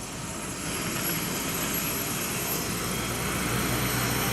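A medical transport helicopter engine revs steadily nearby at a mock DUI accident drill, a dense, continuous mechanical drone that swells slightly louder as it goes on.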